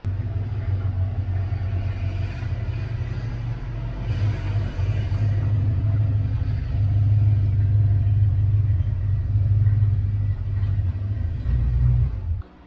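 A car is driven slowly into a garage, its engine a low steady rumble that swells slightly as it creeps forward, then cuts off abruptly at the end.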